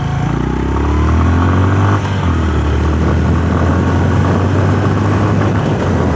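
A Honda CB350RS motorcycle engine revs hard up to its red line, a loud, close, sustained roar whose pitch climbs at first and then holds steady, with no talking.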